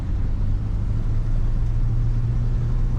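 A 1959 DeSoto Firesweep Sportsman four-door hardtop cruises along, its stock engine and road noise forming a steady, low, even rumble with no voices.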